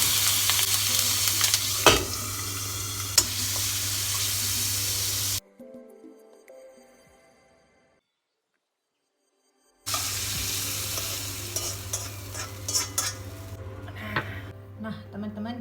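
Petai stink beans and bird's eye chili stir-fry in a hot pan with a loud, steady sizzle and scraping stirs, breaking off into near silence midway before the frying resumes.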